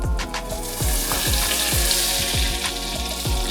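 Food sizzles steadily in a hot pan with apple juice, a loud continuous crackle with quick popping spatters throughout. There is no talking.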